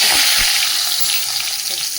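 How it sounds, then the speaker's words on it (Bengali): Cumin seeds and a bay leaf sizzle in hot oil for a vegetarian dish, a loud, close, continuous crackling hiss with a few soft knocks underneath. "চলো তেল তো গরম হয়ে গেছে, এর মধ্যে একটু যে জিরে ফোড়ন দিয়ে দিলাম"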